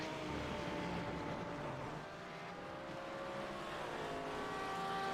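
A race car engine in a racing video game holds a steady high whine on a flying lap, its pitch dipping briefly and then climbing again, at moderate volume with no talking.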